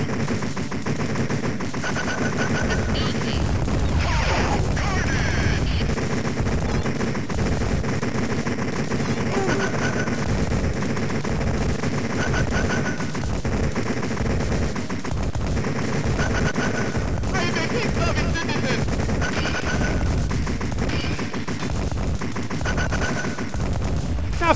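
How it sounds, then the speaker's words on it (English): Video game combat with a sustained barrage of missiles and rapid gunfire, dense bursts of shots and blasts rolling continuously over background game music. "Survive this barrage of missiles."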